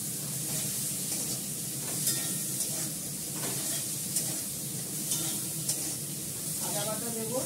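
Fish curry base frying in a pan, sizzling with a steady broadband hiss and occasional stirring scrapes throughout, close and moderately loud.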